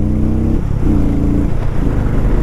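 A 400cc motorcycle in second gear pulls away with a rising, close engine note that climbs in pitch through two short surges of revving.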